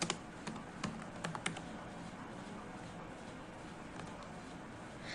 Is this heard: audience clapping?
no